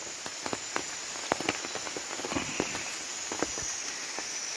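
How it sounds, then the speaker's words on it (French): Light rain on a night beside a flooded creek, scattered irregular drips and ticks landing nearby over a soft continuous hiss, faint and easing, with no voices. "La pluie s'est calmée."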